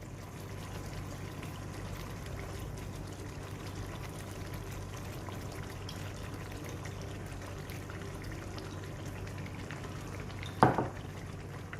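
Goan prawn xacuti curry simmering on low heat in a pan, a steady soft bubbling and sizzling hiss throughout, with a brief clink of a utensil near the end and no talking.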